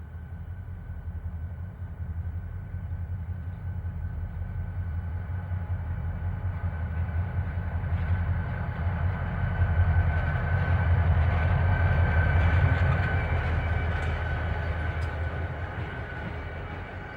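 A Susquehanna freight train led by two new GE B40-8 diesel locomotives rumbles past, a steady low engine drone and rolling rail noise that swells louder toward the middle and then eases off.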